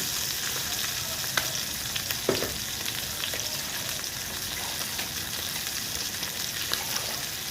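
Vegetables cooking in a pan with fried fish and seasoning give off a steady, fairly loud bubbling sizzle, broken by a few brief knocks and clinks; no speech.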